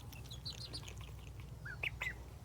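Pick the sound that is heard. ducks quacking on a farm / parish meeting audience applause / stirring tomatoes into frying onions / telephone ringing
ducks quacking on a farm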